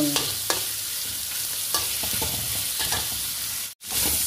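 Pork sizzling and frying in a pan for pakbet, stirred with a utensil that scrapes and clacks several times over a steady close sizzle; a brief silent gap near the end.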